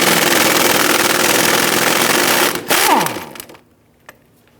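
A power tool loosening and removing bolts on a 1999-2004 Jeep Grand Cherokee buzzes loudly and steadily up close for over two seconds, then winds down and stops, followed by a single faint click in near silence.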